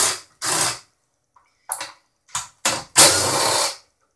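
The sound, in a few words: DeWalt impact driver removing screws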